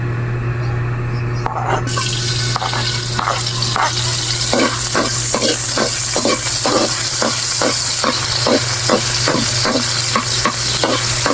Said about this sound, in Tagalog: Gigisa na tayo ng bawang sibuyas.